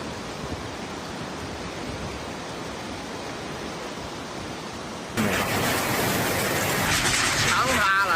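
Heavy rain and rushing floodwater from a flash flood in a Chinese city roar as dense continuous noise that grows louder and harsher partway through, with faint voices under it.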